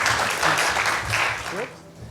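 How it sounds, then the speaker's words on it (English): Conference attendees in Singapore applaud, a moderate, fairly close burst of clapping that fades toward the end. "A round of applause for Mr. Nikos Kavalis, please."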